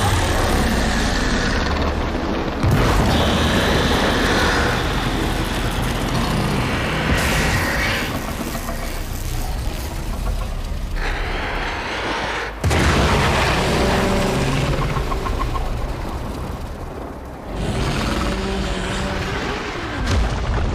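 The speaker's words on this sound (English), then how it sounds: "There should be useful detritus falling from the explosion." Loud, continuous rumbling booms and explosive blasts from the Warframe game on PS4 fill the whole stretch, with dense crashing debris-like noise and several abrupt cuts between bursts.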